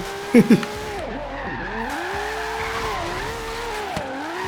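A LaFerrari hypercar in the racing game Forza Horizon runs with a steady engine drone and sweeping pitch changes as the tyres squeal and skid through a slide, with two short thumps near the start.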